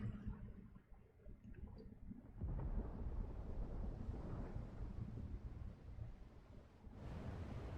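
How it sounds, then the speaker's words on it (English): Thunder in the video game Final Fantasy XVI, a low rumbling roll that builds after a quieter opening and sustains with windy noise, fading slightly near the end. "Sounds like thunder."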